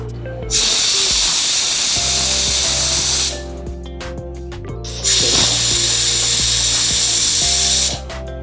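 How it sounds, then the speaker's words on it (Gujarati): Pressure cooker whistling on a gas flame while potatoes and moraiyo cook for farali tikki, two loud, long, close hissing blasts of escaping steam with a brief quieter gap between them. "ઢાંકણું બંધ કરી 2 વિસલ વાગે ત્યાં સુધી રહેવા દઈશું."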